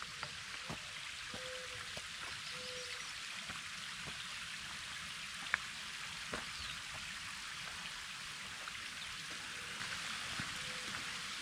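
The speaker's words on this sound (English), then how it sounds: "pretty cascading creek." A small cascading creek along the Old Man Caves trail, running in a steady, close wash of flowing water with occasional faint drips and birdsong, no one speaking.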